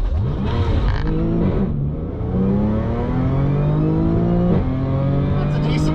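Audi B8 S4 with Stage 2+ tune and dual pulley on E40 fuel launching hard at a drag strip, loud continuous engine roar climbing steadily in pitch through several gear shifts.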